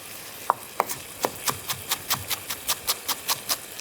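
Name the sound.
knife slicing rolled-up herbs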